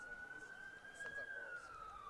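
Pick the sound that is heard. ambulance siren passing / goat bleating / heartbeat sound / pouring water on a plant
ambulance siren passing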